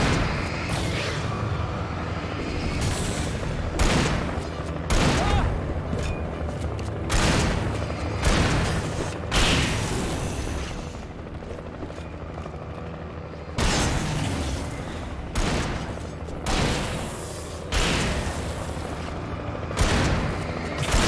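Shotgun blasts in the video game Alan Wake, repeated loud booming shots spaced a second or two apart amid a rumbling combat backdrop, with a brief lull midway before the firing resumes.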